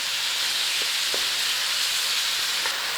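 Chicken curry filling for hand pies cooking in a pan, with an even bright sizzle and hiss throughout and a couple of faint clicks from stirring.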